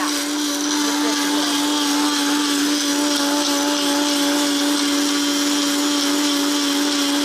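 A mixer grinder runs steadily as it grinds garam masala powder in its jar, a loud, unbroken motor whine with a rough grinding rush over it.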